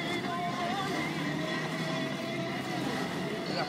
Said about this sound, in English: Tour boat, look at the little tour boat over there.